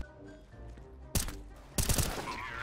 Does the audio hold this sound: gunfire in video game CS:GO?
yes